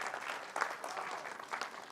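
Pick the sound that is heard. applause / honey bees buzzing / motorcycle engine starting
applause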